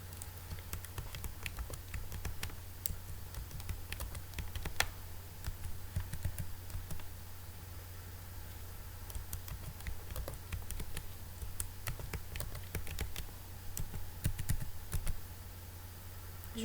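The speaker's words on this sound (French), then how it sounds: "taper le mot de passe." Rapid, steady typing of a password on a computer keyboard, a continuous close patter of light key clicks with occasional sharper taps and no talking.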